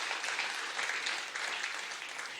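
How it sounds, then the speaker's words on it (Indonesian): A church congregation applauding during a sermon, an even, sustained roar of many hands clapping, heard alone at moderate volume. "Yang percaya berikan tepuk tangan bagi Tuhan kita."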